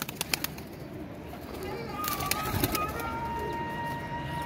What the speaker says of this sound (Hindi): ये कबूतर रामपुरी कबूतर का मैं अभी आपको शौक करवाता हूँ।